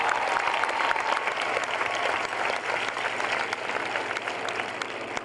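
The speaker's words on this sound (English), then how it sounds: "So big round of applause for Melissa." A crowd at a charity triathlon event claps steadily and evenly for the full stretch, a sustained moderate wash of hands that never peaks or drops off.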